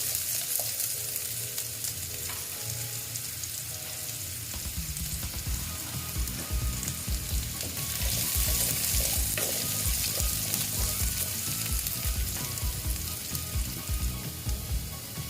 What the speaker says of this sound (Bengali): এই জন্য আমি আলুগুলোকে ভালো মতন ভেজে নেব